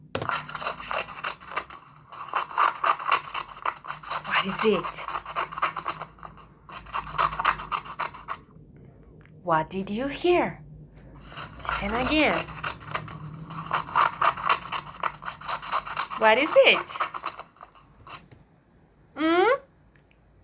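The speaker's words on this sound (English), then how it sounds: "Scissors and paper. Cutting paper, friends." Scissors snipping through paper in repeated bursts of crisp scraping cuts, several rounds separated by short pauses, while a teacher's voice speaks between and over them.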